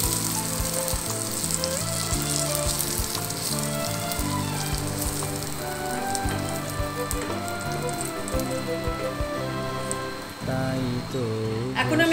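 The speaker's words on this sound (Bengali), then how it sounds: "এর মধ্যে কিশমিশ দিয়ে অল্প একটু ভেজে দেবো।" Raisins frying in a hot pan for a caramel sabudana kheer, a constant close sizzle and crackle with scattered pops running evenly throughout, with faint background sounds underneath.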